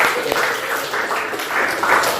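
Students clapping for each other in a classroom lesson, a loose patter of hands in uneven bursts, moderately loud and close, without talk.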